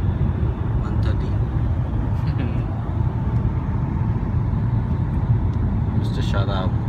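A Mercedes S350 cruising on a highway between Dubai and Oman, a steady loud low road and engine drone inside the cabin with no breaks.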